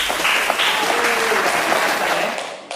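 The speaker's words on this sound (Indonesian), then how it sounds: "Tepuk tangan yang di rumah." Close, continuous clapping from a small group at home during a children's Sunday school session, steady and lively throughout, tapering off at the end.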